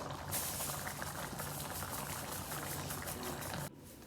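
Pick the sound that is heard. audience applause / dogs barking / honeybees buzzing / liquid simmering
liquid simmering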